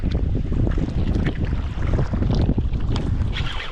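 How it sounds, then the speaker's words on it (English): Strong, steady wind buffets the microphone on a lake during bass fishing from a small boat, a constant loud rumble with gusts and faint water slapping throughout. "Fairly windy today."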